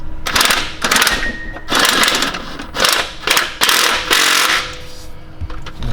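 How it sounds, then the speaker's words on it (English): Ratchet tightening a starter motor bolt on a Toyota Hilux 2TR 2.7L, heard as several loud, close bursts of rapid clicking separated by short pauses. "that's the bottom bolt tightened up"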